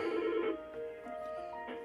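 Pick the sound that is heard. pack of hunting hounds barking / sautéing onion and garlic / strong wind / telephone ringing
telephone ringing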